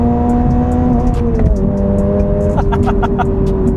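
A Toyota GR86 accelerating hard with the throttle held flat, a loud engine drone heard from inside, its pitch sliding between gears with a brief dip partway through, under faint voices.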